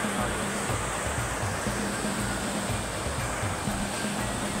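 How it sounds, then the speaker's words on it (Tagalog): Steady rushing water from a river with a strong current, a continuous broadband roar without pause. "Yan ang ilog, malakas ang agos."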